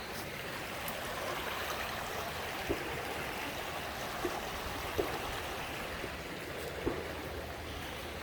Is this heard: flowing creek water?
yes